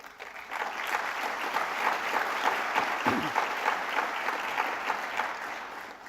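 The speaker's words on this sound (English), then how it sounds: "thank you for leading that clap" Audience applause during a university president's breakfast speech, a steady, fairly distant roar of many hands clapping that holds evenly for several seconds.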